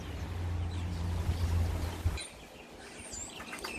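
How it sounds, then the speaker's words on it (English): Birdsong and chirps in a late autumn tropical garden during strong wind, with steady low wind rumble for the first half, then thinner, clearer tweets and whistles rising over quieter gusts. "As you can hear, the wildlife, the birds are still doing their thing, wind or no wind."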